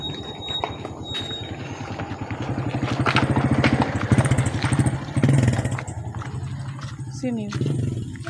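A motorized tricycle goes by at night, its buzzing engine rising and falling in a pulsing drone as it nears and passes, with people talking over it.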